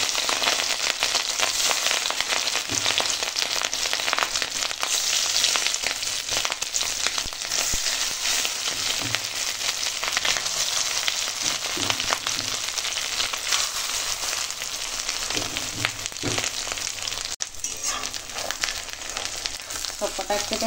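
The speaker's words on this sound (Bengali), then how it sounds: "এবার ভেজে নেওয়ার পালা, ভেজে নেব।" Fish roe fritters fry in hot oil with a loud, dense, continuous sizzle and crackle like heavy rain, plus occasional soft scrapes and clicks of a utensil.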